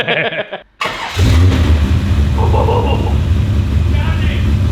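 A turbocharged XE engine, solidly mounted, cranks briefly, cuts out, then catches and settles into a loud, steady rumbling idle.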